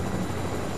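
A helicopter in a video game passes nearby, a brief steady rotor drone at constant loudness with no talk.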